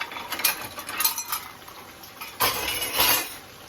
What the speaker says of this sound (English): We're going to mix this here on up just like this.